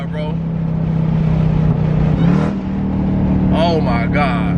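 Jeep Trackhawk with an upgraded exhaust holding a loud, steady engine drone that rises into a brief rev before dropping back, with excited voices talking over it.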